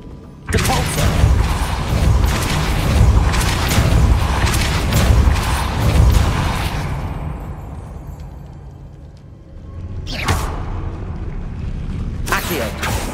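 In Hogwarts Legacy, the Depulso pushing spell bursts out with a loud whooshing boom and rumbling impact, sustained for several seconds, followed by quieter sharp magical flares.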